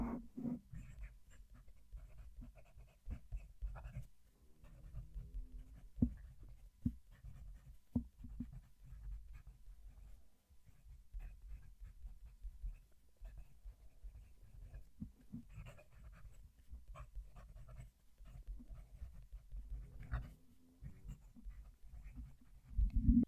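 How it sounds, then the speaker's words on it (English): Fountain pen nib writing a sentence on paper, heard close up as faint, soft scratchy strokes and small taps in an irregular rhythm, with no talk. "Let's move the mic and write the sentence."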